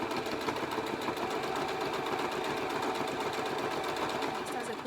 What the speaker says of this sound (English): I'm just gonna make a quick seam right at 1/4 inch all the way down the piece of